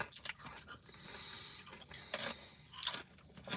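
Crunchy corn chips being chewed up close, a few sharp crunching bites standing out over quieter, soft chewing, with no talk.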